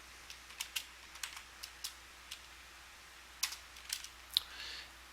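Soft clicking of keys on a computer keyboard in a quiet room, two short irregular bursts of taps with brief pauses between them, close and faint, with no voices.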